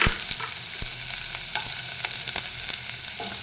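Onion frying lightly in a pan for a masala oats breakfast, a steady crackling sizzle with sharp pops scattered throughout, close and fairly loud with no talking.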